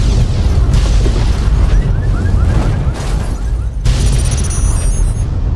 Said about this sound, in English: Laser designator. Light up this nuke, please.